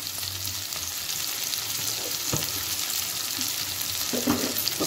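Fried cucumber pieces sizzle in a pan with tamarind and coriander seeds for a cucumber chutney: a constant frying hiss broken by occasional light clicks of a spoon.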